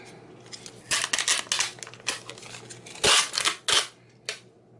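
Scissors or a trimmer cutting through a paper insert for a traveler's notebook, a quick run of crisp snips and crinkles up close, with short sharp cuts and paper rustles between them.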